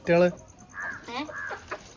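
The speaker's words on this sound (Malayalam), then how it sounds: "അതൊക്കെ അക്കാന്റെ കോഴിയാണ്" A hen clucks nearby in a series of short, uneven calls, one louder squawk at the start followed by softer clucks.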